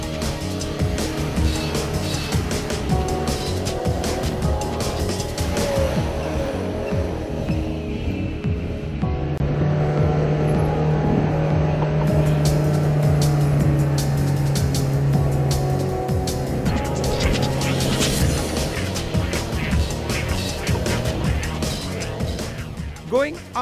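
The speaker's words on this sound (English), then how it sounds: "soon most drivers managed to navigate their SUVs over the tricky surface" SUVs drive over loose desert sand dunes, their engines a steady low rumble and hum with occasional revving, while a voice talks over them.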